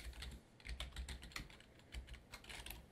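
Rapid typing of code on a computer keyboard, quick irregular key clicks close by and fairly quiet, with no talking.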